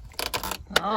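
Keys jangle inside the glove box of a 1978 Ford F-150, in several brief metallic rattling bursts up close, with a short voiced sound near the end.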